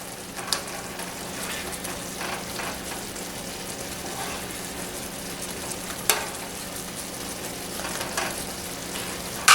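Smothered pork chops and turnips simmer in gravy in a pan, giving a steady, close sizzle and bubbling with a few sharper pops and spatters throughout, no voices.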